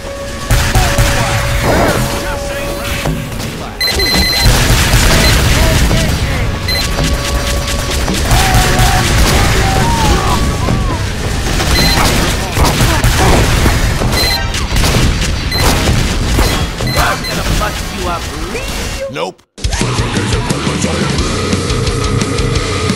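Bombs and weapons in Team Fortress 2 boom and crash in a loud, continuous barrage of explosions and gunfire lasting about twenty seconds, with brief player talk and a sudden cut near the end.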